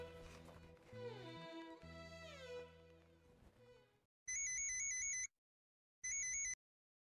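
A phone rings in two short electronic bursts, loud and close, after a stretch of dramatic background music in a Bengali TV serial scene.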